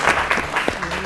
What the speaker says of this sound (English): Let's clap for them as well.